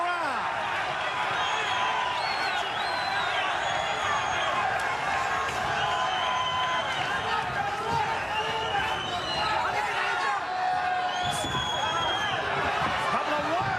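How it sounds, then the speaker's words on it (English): Boxing crowd roaring during the final round of a WBO super flyweight title fight, a dense and continuous wall of cheering and shouts that stays loud throughout, with voices mixed into the arena noise. "the crowd getting into it here again as we're in the final 2 minutes of the 12th and final round"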